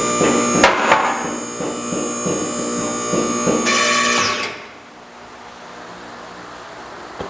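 A 15,000 lb two-post lift runs with a steady mechanical whine and rhythmic knocks for a few seconds, then cuts off, leaving a faint background hush.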